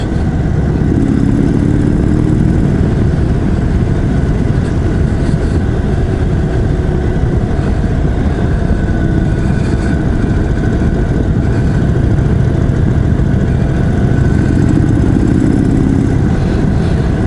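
A 2021 Indian Chief Dark Horse cruiser motorcycle engine runs steadily throughout at a loud, close, relaxed cruising pace with constant road and wind rumble, and no one speaks.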